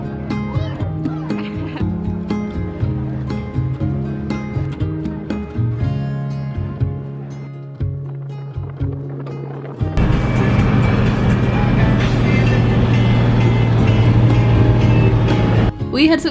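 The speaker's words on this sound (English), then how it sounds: "We had successfully driven the cars onto the boat and made it across to Fraser Island" Cars rolling onto a vehicle barge bound for Fraser Island, a steady low engine drone with rumbling that grows louder and denser partway through, continuing under intermittent voices.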